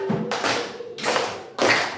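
A class group clapping a cheer rhythm of numbered claps, three loud bursts of clapping separated by brief gaps, close and with no talk over them.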